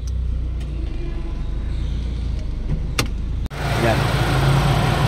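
A Mitsubishi Lancer with a 4G92 engine idles roughly with a misfire and the air conditioning running, a low uneven rumble under the bonnet that lifts sharply midway as the engine bay is opened up.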